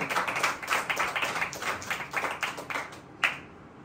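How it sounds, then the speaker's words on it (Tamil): A church congregation claps along in praise, a steady run of fairly close hand claps in a loose rhythm that thins out near the end, with one sharper clap just before it stops. "கைத்தட்டி ஆண்டவரை மகிமைப்படுத்துவோம் உற்சாகமா."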